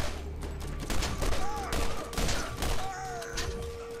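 Video game gunfire, a steady barrage of shots and thumps under a droning ambient hum, with brief whistling tones rising over the din, loud and continuous throughout.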